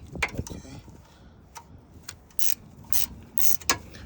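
A ratchet wrench turns the lower AC compressor bolt on a Nissan 1.8 L engine, giving several short bursts of fairly faint clicking among light mechanical handling noises.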